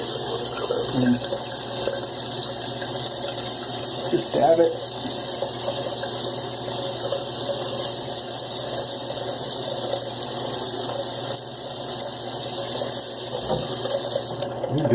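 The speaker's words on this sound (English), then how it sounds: "Get some cold water on the washcloth" A tap pours cold water steadily onto a washcloth at a bathroom sink during a head-shaving routine, a continuous close rushing hiss under brief talk.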